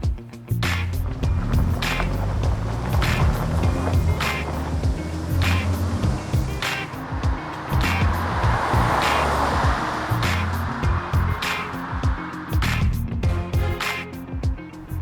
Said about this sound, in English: Let's go ahead and take it for a drive.